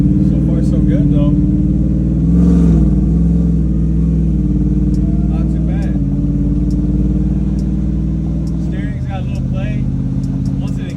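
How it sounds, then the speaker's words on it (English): Supercharged Whipple 3.0 Coyote V8 in a Ford F100 runs steadily on a dyno, a loud constant engine drone with a brief swell near the middle and a dip in pitch near the end, while a voice talks faintly over it. "we're gonna do our wide open throttle stuff on the dyno"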